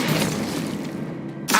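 A spell effect in a video game bursts with a crashing, shattering whoosh that carries through, then cuts off sharply near the end, with no voice over it.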